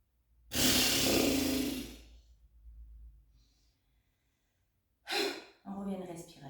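Deep yoga breathing: one long, loud, breathy inhale or exhale lasting over a second, then quiet, followed by a shorter breath and a voice speaking softly.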